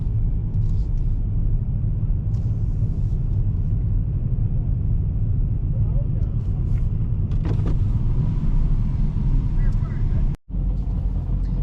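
2023 Dodge Challenger T/A at a race track, a deep steady engine rumble idling or cruising, loud and close throughout, with a few faint clicks and a brief dropout near the end.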